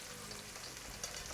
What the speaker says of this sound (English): Let the onion fry up a little bit to smell the aroma.